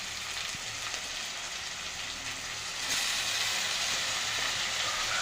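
Tomatoes and capsicum fry in hot oil in a pan for an egg and capsicum dish, giving a steady, close sizzle that grows slightly louder partway through, with no talking.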